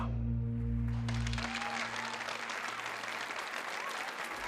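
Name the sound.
thunderous applause sound effect in story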